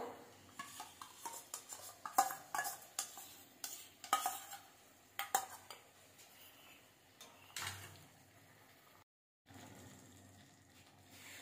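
Whisked sour yogurt being stirred into spiced chicken in a kadai pan: repeated scraping and clinking strokes of a utensil against metal, irregular and fairly close, with a brief gap of silence near the end.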